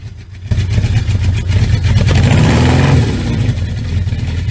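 A 1982 Suzuki GS650GL motorcycle engine catches after a brief quiet moment, then runs with a steady, low mechanical idle that swells briefly before settling, close by.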